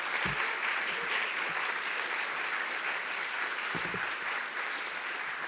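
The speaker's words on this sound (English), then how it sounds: "I would like you to applaud my rabbit" A lecture hall audience claps at a literary talk, sustained and fairly loud, with a few low thumps breaking through the steady patter of many hands.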